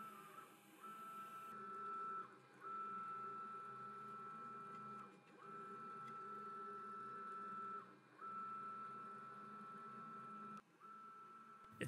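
A Carvera Air desktop CNC laser engraves with air assist, giving a quiet, steady whirring hum with a pitched motor tone that dips briefly at regular intervals of about three seconds as the head changes passes.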